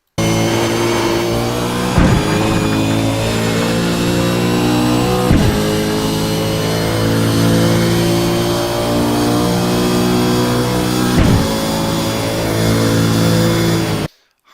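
A race car engine accelerates hard around the Monza track, a loud, steady, close-up roar that rises in pitch through each gear and is broken by sharp upshift cuts at regular intervals.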